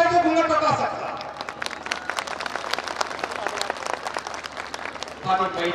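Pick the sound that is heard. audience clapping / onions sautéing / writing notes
audience clapping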